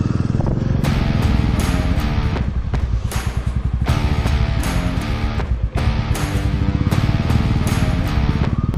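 Motorcycle ridden along a rough off-road route on the way to a hillside cafe, its engine running loud and steady throughout with clattering and bumps from the uneven ground.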